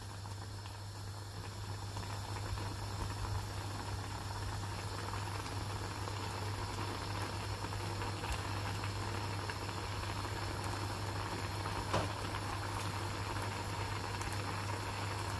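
A pot of green tomato and eggplant milk curry bubbles and simmers steadily, a constant hissing boil with soft popping, close by and unbroken, with a low steady hum beneath.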